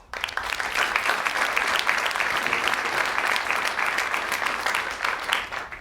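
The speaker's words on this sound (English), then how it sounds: "Let's give them a round of applause." An audience at an asteroid initiative industry and partner day applauds panelists: dense, continuous clapping from a full room, loud and sustained for several seconds before tapering slightly at the end.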